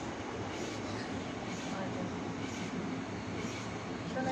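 Steady rumble and rattle of the Shri Jagannath Express passenger train moving along the track between Shalimar and Puri, heard from inside a carriage as a continuous rolling noise with faint rhythmic clacks.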